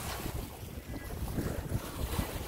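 A sailboat on a broad reach under jib alone at about five to six knots on the open ocean off Key West, with steady wind rushing across the microphone and low, continuous surging of water against the hull.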